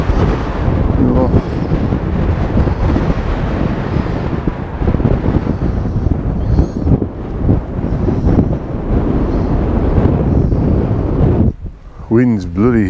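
Cold wind buffets the microphone outdoors on a mountain route near a summit, a loud steady rumble that runs through nearly the whole stretch and drops briefly near the end.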